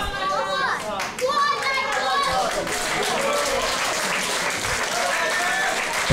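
Crowd in a bar applauding and cheering during a live pro wrestling show, steady clapping and voices filling the room throughout at close range.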